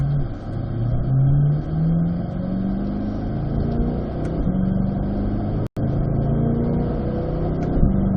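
A Corvette C8 race car accelerates hard in fourth gear on an open lapping track day, its engine note climbing steadily in a loud, continuous drone heard from inside the car.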